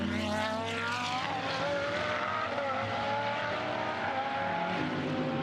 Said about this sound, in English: David Russell clears the DeVeth Chester Camaro, missing that rear bumper valance